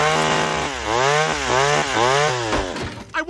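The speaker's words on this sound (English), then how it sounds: "I want a chainsaw!" A cartoon chainsaw in Family Guy revs in rising and falling whines, loud and close, with repeated throttle swells over about three seconds.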